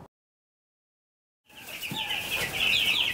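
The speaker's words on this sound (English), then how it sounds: "So these are meat chickens." After a second and a half of silence, a flock of young meat chickens, about two weeks old and roughly 400 strong, cheeps and clucks together on a farm, a busy, high chirping chorus close by.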